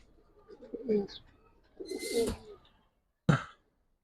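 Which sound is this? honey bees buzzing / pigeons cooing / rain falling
pigeons cooing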